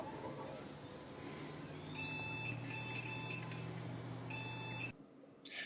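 A dusty 2011 desktop PC with a graphics fault gives its motherboard beep code at power-on: several groups of short, shrill electronic beeps repeating over a steady fan hum, which cuts off abruptly near the end.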